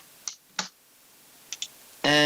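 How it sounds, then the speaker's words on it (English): A computer keyboard gives a few light, separate key clicks while a minus sign is typed into a spreadsheet function, then a voice starts speaking. "let's type in a minus into our function"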